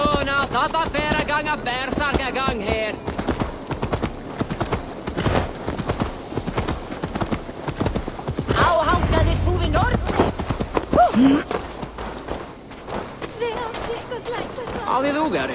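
Horse hooves clip-clopping in the video game Assassin's Creed Valhalla, a rhythmic trotting beat layered under music and character dialogue, with heavier thuds midway.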